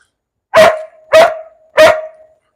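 Poodles indoors bark three times at an even, spaced rhythm, each bark loud, close and ringing briefly before the next.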